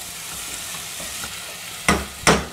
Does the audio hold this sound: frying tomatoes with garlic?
yes